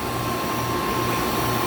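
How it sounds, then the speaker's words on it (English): A vacuum pump pulls a vacuum on a mini split system, a loud steady motor drone with a constant whine, running nearby without pause. "We're pulling a vacuum now."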